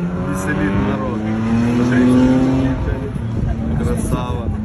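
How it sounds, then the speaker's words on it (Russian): A Toyota Land Cruiser 100 drives tilted up on two wheels at an off-road competition stage, its engine a loud, sustained drone that rises in pitch midway, heard under crowd voices. "джип он, крузак сотый, едет, смотрите, на двух колесах"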